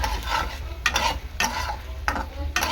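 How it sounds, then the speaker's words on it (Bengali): Salt and turmeric being stirred through spices in a hot pan, a steady sizzle broken by several scraping stir strokes at irregular intervals, close and fairly loud with no voices. "একটু লবণ একটুখানি হলুদ গুঁড়ো দেব দিয়ে নাড়াচাড়া করে দেবো"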